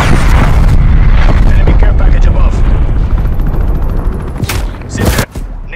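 Napalm strike explosions in Black Ops Cold War on PS5, a loud, continuous rumble of booming blasts and crackling fire that fades toward the end, with a brief sharp burst near the close.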